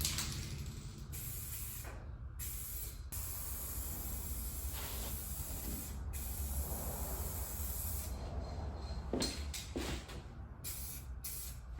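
Steady, continuous hiss of spray paint laying down a car's first coat, close and even throughout with brief pauses near the end, no talking.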